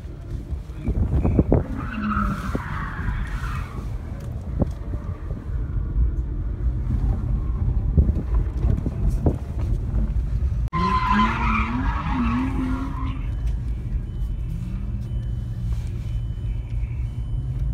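A Mazda RX8 drifts on a skid pad practice session, its engine droning steadily while tires squeal in long wavering bursts, loud and close with no talking.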